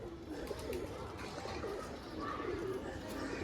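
Pigeons coo in low, repeated burbling phrases over a faint background hiss, fairly quiet and with no one talking.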